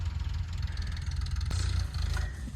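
A farm tractor engine runs close by with a loud, rhythmic low chugging and knocking throb, heard alone without talk.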